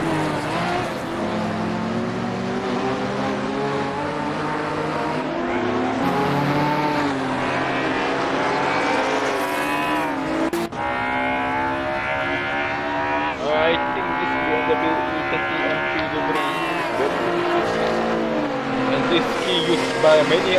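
Racing cars circle the Red Bull Ring in Assetto Corsa, their engines whining and shifting pitch continuously as cars pass, with a commentator's voice running over the engine noise throughout.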